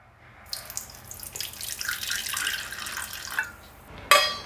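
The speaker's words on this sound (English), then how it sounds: "To this we are going to add lukewarm water." Water pours steadily into a container with a hissy splashing rush for a few seconds, then stops, followed by a short clink.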